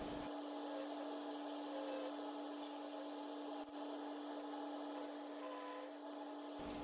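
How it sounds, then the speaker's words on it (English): A bowl gouge hollows the inside of a walnut wine glass on a woodturning lathe, making a faint, steady scraping hiss over the lathe's constant hum, with a few soft knocks. "using the bowl gouge now to very carefully take some material off the inside"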